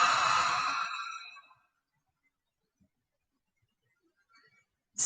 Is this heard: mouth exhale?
yes